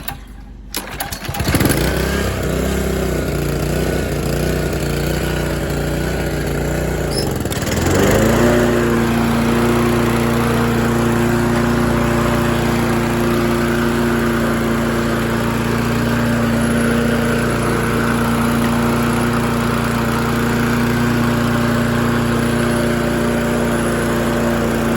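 A Craftsman riding lawn mower with a blade clutch, a trash find, cranks on full choke and then settles into a steady, loud, even engine drone that runs alone and close for the whole stretch.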